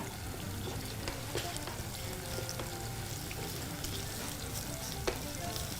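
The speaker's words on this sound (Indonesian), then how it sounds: "Tumis bawang putih, masukin jahe kira-kira 3 piece ya." Garlic and ginger stir-frying in a pan, a dense continuous sizzle with scattered scraping and clinking as the pieces are moved around, close and steady throughout.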